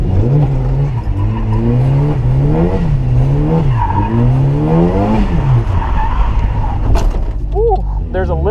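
A turbocharged Mazda Miata drifts at a drift event, its engine wailing and rising and falling in pitch as it revs through second gear, with tires squealing and skidding close by and loud.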